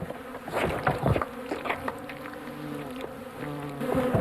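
Bees swarm around a traditional beehive, a close layered buzzing with rising and falling drones as individual insects pass by, steady and moderately quiet.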